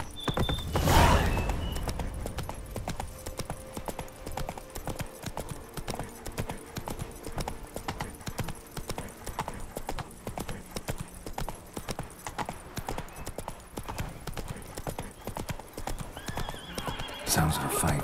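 Roach, Geralt's horse in The Witcher 3: Wild Hunt on PS5, gallops with a dense, rapid hoof rhythm that carries on throughout, opening with a short whinny and set against game music and faint background sound.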